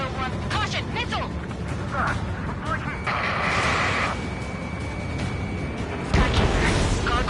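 Missile hits and explosions in Ace Combat 7 aerial combat, heavy booming bursts and crashes layered over radio chatter voices, with a sustained tone mid-clip and a louder impact near the end.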